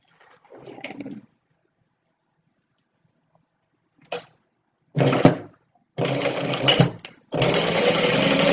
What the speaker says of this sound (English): And then we will edge stitch just like we did on that smaller one.